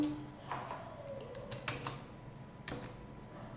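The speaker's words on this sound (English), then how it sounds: "I am also typing the code." Fingers tap out code on a computer keyboard during a Python data-science class, with quick irregular clicks and a few sharper key strikes close by in a quiet room.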